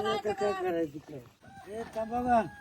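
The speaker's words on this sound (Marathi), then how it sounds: "अहो तांबाकर राहू द्या कोंबड्या राव धरा मका टाका" Village chickens cluck and squawk close by while people haggle loudly over their price, the bird calls rising and falling throughout.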